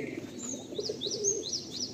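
Pigeons at a small breeding loft coo in low murmurs, joined by faint, high chirping from other birds, all at a moderate distance against steady ambient noise.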